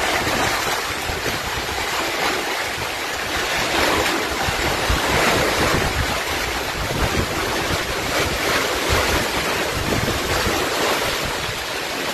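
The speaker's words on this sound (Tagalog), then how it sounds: "Sobrang lakas na po ng alon." Large wind-driven waves surging on Laguna de Bay during Typhoon Uwan, a loud, continuous roar of surf and rushing water mixed with gusting wind buffeting the microphone, with no voices.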